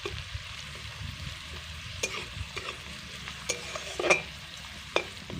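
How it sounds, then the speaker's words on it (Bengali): Onions fry in a pan with a constant sizzle while a utensil scrapes and stirs them in irregular clicks and scrapes, up close and alone with no voices. "হালকা করে একটু নাড়াচাড়া করে নিচ্ছি। খুব বেশি পেঁয়াজটা ভাজবো না, একটু লাল করে ভেজে নেব"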